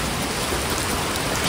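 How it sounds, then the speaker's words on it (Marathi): Heavy rain pours at Bhandardara in Maharashtra, a dense, steady hiss of rainfall that stays loud and even throughout, with no voices. "आणि पाऊस तर खूप आहे या पट्ट्यामध्ये वरती."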